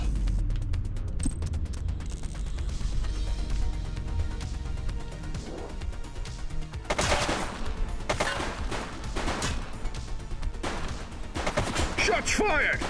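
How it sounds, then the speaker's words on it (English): Gunfire in the police video game The Precinct, a series of sharp shots and rapid bursts breaking out midway over mechanical clatter, loud and close, with speech around it. "Shots fired!"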